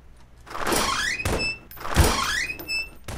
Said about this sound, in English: Oh, somebody got into the door. I can hear it.